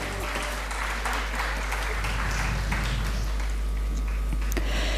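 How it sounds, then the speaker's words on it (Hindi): An audience at a Delhi training event applauds with steady, dense clapping for a few seconds, heard at moderate distance over a low background hum. "तो एक बार फिर से जोरदार तालियां हो जाए हमारे एक्सपर्ट्स पैनल के लिए."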